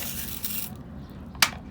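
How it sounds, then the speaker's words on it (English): A hand sprayer mists a potted Vanda orchid, with a soft hiss of spray early on followed by a sharp, brief burst of spray near the end, close and moderately loud with no talking. "I spray this down like this"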